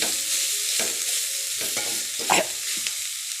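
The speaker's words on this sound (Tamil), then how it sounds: "நல்லா மிக்ஸ் பண்ணி விட்டுக்கலாம் தேங்காய் பூ போட்டு லைட்டாக ஒரு பெரட்டல்" Grated coconut stirred into a frying vegetable stir-fry in a pan, a continuous low sizzle broken by several scraping spatula strokes and one louder clatter; no voices.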